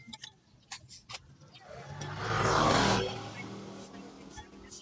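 A motorcycle engine swells as it passes close by, peaking and fading over a few seconds, with voices and background noise around it.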